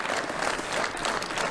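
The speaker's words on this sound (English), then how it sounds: "Much appreciation from the crowd." A crowd at the 2018 Norwegian Open table shuffleboard final applauds steadily and fairly loudly, a dense unbroken patter of clapping that lasts throughout.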